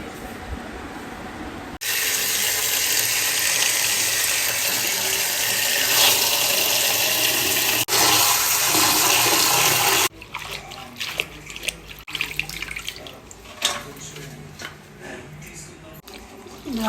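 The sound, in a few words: water running while washing sirraku leafy greens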